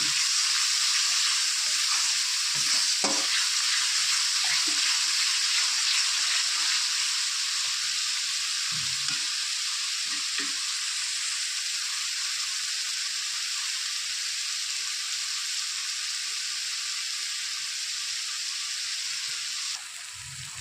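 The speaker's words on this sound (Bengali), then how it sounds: "ভালো করে মশলা কষিয়ে নেব।" Spices with turmeric and salt fry in a pan with a steady, bright hiss, a few soft stirring taps scattered through, continuing evenly and dropping slightly at the end.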